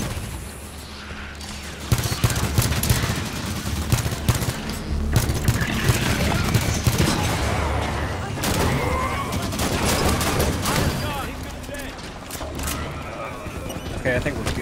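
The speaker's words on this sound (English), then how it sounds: "Auto turrets. If we turn these back on, they'll make quick work of the Prometheans. Unless something happens. Turrets on and firing." Automated turrets fire in bursts during a Halo 5: Guardians battle against Prometheans, with dense, sustained gunfire and explosive booms under overlapping game sounds and occasional talk.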